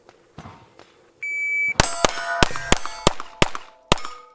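A KelTec CP33 pistol firing at a steel target: a steady electronic timer beep, then a rapid string of about eight sharp shots, each with a bright metallic ring from the steel, loud and close.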